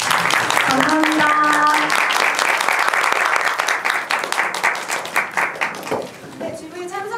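An audience at a film festival screening Q&A claps loudly and steadily, then the applause thins into scattered individual claps before a voice speaks.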